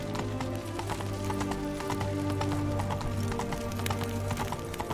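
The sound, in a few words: Roach the horse galloping in video game The Witcher 3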